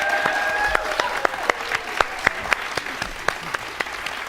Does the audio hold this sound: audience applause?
yes